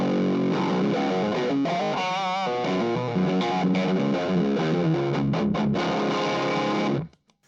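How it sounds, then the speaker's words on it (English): A heavily distorted electric guitar plays a sustained riff through an overdrive pedal into a clean amp, thick and saturated, then cuts off abruptly near the end. "to that I can add some distortion or overdrive in this case"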